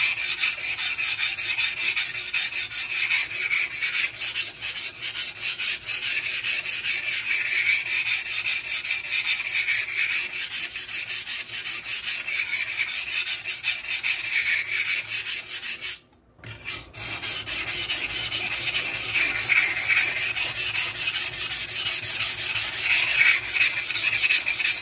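Knife blade drawn against a Buck Honemaster sharpening stone, a steady continuous scraping rasp running close and loud with one brief pause midway, no talking.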